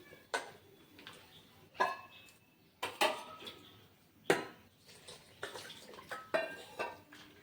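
A thick mixture for a Poush Parbon festival dish is mashed and kneaded by hand in a bowl, producing soft, intermittent knocks and clinks against the vessel at a steady unhurried pace, close and quiet, with no speech.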